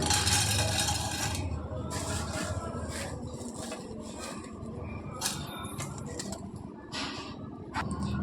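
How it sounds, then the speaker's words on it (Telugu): A pot set down on a stove and fried potato curry tipped into it, giving close metallic clinks and scraping clatter of cookware and utensils over a constant background hiss. "స్టవ్ మీద ఒక గిన్నె పెట్టేసుకొని వేయించుకున్న ఈ ఆలు కూర మొత్తం వేసుకోవాలి"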